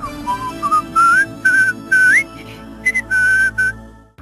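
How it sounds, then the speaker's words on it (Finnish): A synthesized Finnish text-to-speech voice from Loquendo whistles a short melody of about eight clear, sliding tones that climb in pitch, each separated by brief pauses, heard alone and close up. "Ja vaikka vihellellä."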